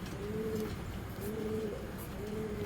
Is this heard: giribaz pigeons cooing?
yes